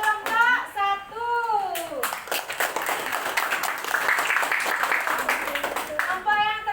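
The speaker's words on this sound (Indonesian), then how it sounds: "Ya, kasih tepuk tangan untuk kelompok 1." An elementary classroom claps for a student group after their presentation, a burst of many small hands clapping between stretches of a teacher and children speaking.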